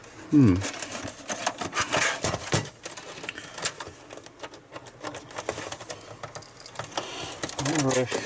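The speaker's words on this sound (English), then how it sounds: "those sections can peel out" Plastic clipped side sections of a Sky HD 1TB set-top box pulled off during a teardown, giving a series of close snapping clicks and rattling plastic knocks, with a person talking in the clip.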